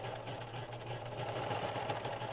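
A serger sewing machine running a flatlock stitch, a steady mechanical hum with a fast even rhythm, moderately loud and continuous, with no talking.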